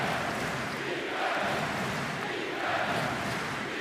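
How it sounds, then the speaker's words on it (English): A German home crowd at a FIBA EuroBasket 2022 basketball game against Montenegro, roaring and cheering in a dense, sustained wall of noise that swells slightly in waves across the arena. "The loudest we've heard the German crowd now."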